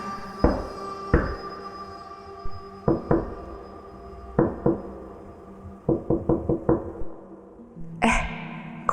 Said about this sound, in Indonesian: Kok ada yang ngetuk?